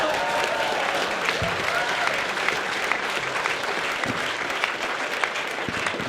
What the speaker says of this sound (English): could you clap for us?